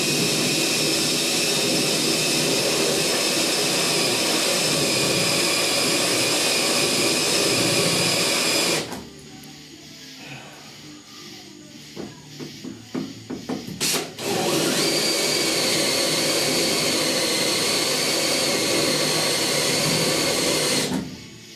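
A power drill bores through the rusty metal inner roof of a 1969 Chevrolet C10 pickup: a loud, steady, high whine runs for long stretches, broken in the middle by a quieter spell of ratcheting clicks and knocks before the drilling resumes.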